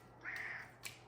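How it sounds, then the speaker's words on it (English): Cats waiting for their dinner let out a single faint meow in the background of a kitchen, with a soft second sound just after. "you can hear the cats in the background."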